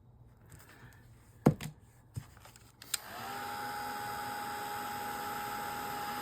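After a few light taps and handling knocks, a hair dryer switches on and blows in a steady, loud whir to dry a page of an art journal, running without pause to the end.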